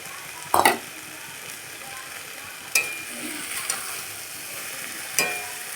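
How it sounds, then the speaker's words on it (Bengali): Bottle gourd greens cooked with mustard paste sit softly sizzling in a pan, broken by three sharp scraping knocks of a spatula against the metal. "ভালো করে সর্ষে বাটাটা দিয়ে কিছুক্ষণ নাড়বো, নেড়ে তারপরে নামাবো"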